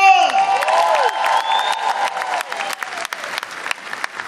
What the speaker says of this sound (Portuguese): Mais uma salva de palmas para ele, só chegou.